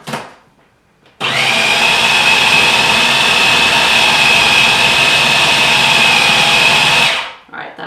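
A food processor churns thick chocolate chickpea brownie batter in one long, loud, steady whir lasting about six seconds, starting and stopping abruptly with quiet on either side.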